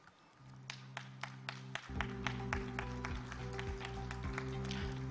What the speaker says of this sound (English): Ladies and gentlemen, we give a big clap.